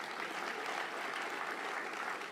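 A crowd at a city address gives a steady round of applause, even and continuous, heard somewhat distant and faint, with no talking.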